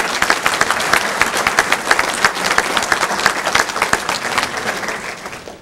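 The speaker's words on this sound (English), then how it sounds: "Give him a big round of applause." An audience at a sportscasters and sportswriters hall of fame ceremony breaks into loud, sustained applause, dense clapping that fills the room and holds steady before tapering slightly at the end.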